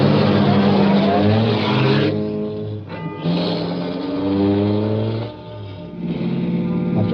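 A car's engine drones and revs as it pulls back onto the road, loud and steady, with a brief dip midway and no talking.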